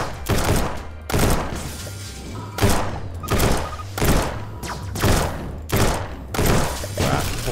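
Repeated heavy booming blasts of enemies exploding in Starbound, about eight of them in a fairly steady rhythm, over a low droning game soundtrack, with no talking.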